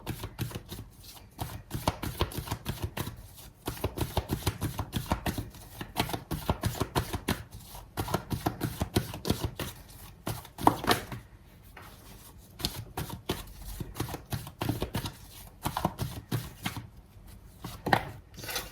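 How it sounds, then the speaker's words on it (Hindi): Tarot cards being shuffled over and over, a dense run of quick papery riffles and slaps in steady bursts with brief pauses, close and clear with no talking. "शफलिंग पूरी नहीं हुई है"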